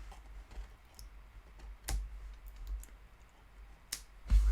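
Scissors snip off excess thread inside a handmade tea box. A few sharp, isolated clicks are spaced seconds apart, quiet and close, against a faint low hum with no talking.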